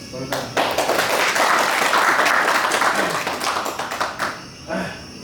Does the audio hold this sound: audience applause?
yes